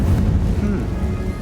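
A deep, rumbling blast from the Confringo fire spell in Hogwarts Legacy, loud and sustained with a heavy low-end boom that fills the whole moment.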